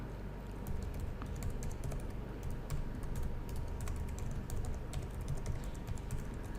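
Product details being typed on a computer keyboard, giving a quick, steady patter of light key clicks over a low background hum, close and continuous.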